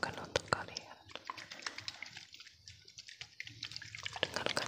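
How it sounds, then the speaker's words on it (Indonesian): Water trickles and drips from little potion bottles in a quiet ASMR session, close and soft, with gentle tapping and handling clicks and whispering throughout. "Dengarkan suaranya, gemericik-gemericik air."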